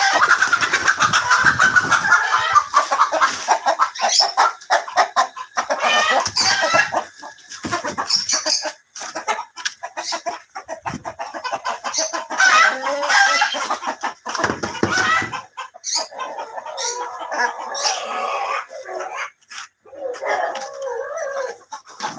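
Colombian Light Brahma hens and a rooster clucking at close range, dense overlapping clucks and calls that thin out into scattered, quieter clucking toward the end.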